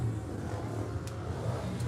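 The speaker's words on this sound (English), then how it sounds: "You can hear them revving there in the background." Junior gearbox mini racing bikes at the Irish Mini Bike Championship rev in the background, a steady distant engine drone with a low buzzing tone and slight fluctuations.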